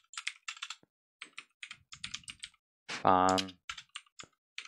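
Computer keyboard keys tapped in short bursts while a file name is entered to flash a graphics card BIOS, with someone talking between and over the clicks.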